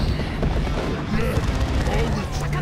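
Gunfire and booming artillery from units clashing in a Dawn of War 2 Retribution 3v3 online battle, a dense continuous rumble of shots and blasts with a voice talking over it.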